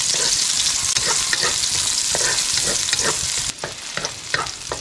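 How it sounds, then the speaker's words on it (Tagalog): Garlic and onion sautéing in a hot pan for a mushroom and prawn stir-fry, a loud continuous sizzle with scraping stirs throughout and a brief dip near the end. "At magigisa na po tayo ng bawang at sibuyas."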